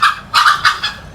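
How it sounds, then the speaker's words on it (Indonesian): A fowl, likely a chicken, gives several short, loud calls in quick succession, each a bright honking cluck, with no one talking. "Ayam itu."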